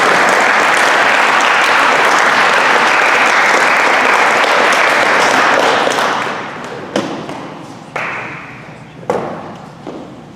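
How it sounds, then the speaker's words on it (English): Audience applause at a high school FFA awards banquet for an agricultural mechanics group, loud and dense for about six seconds, then tapering to a few scattered claps and thumps. "Please give the ag mechanics group a round of applause"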